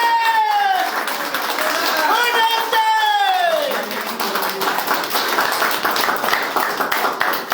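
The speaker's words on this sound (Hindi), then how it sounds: "जबरदस्त तालियां होनी चाहिए" A seated audience at a product training seminar claps loudly and continuously, the applause running for several seconds with a voice talking over the first half.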